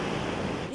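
Dangerous ocean surf crashing at a beach after a cold front, a steady, loud broadband roar of breaking waves with some wind noise, no voices.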